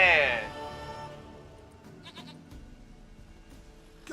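Goat bleating in The Witcher 3: a single loud, wavering bleat up close at the start, then fading into quiet game ambience with faint clicks.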